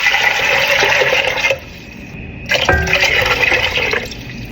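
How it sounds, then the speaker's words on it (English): Water pours into a pot over about 8 ounces of soaked red kidney beans for Jamaican rice and peas, a steady close splashing fill that breaks off briefly partway through, then resumes. "Add water to cover the peas."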